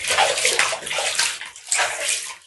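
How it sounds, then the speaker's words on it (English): Water splashes and sloshes continuously in a bathtub as a person moves around in the bath, close and fairly loud, with no talking. "That is the sound of splashing"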